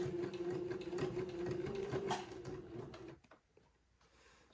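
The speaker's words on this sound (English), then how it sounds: "I'm going to sew the yoke piece to the insert" A sewing machine runs steadily as it stitches a yoke piece to an insert, humming close and continuous for about three seconds before stopping abruptly, leaving quiet room noise.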